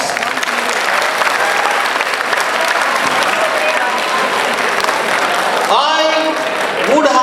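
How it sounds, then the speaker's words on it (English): An audience claps after an annual English school debate between class IX and class X students, a loud, sustained round of applause that ends as a voice starts talking. "Please give a round of applause."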